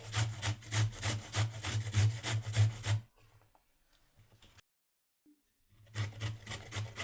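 Raw mango is rubbed rhythmically over a hand grater in quick, repeated rasping strokes, close and steady. After a pause with near silence, the grating starts up again.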